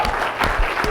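An audience at a coding contest applauds the winner, a brief burst of close, dense clapping with a few louder individual claps.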